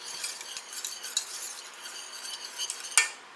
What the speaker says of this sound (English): We're gonna whisk that around until it gets nice and melted.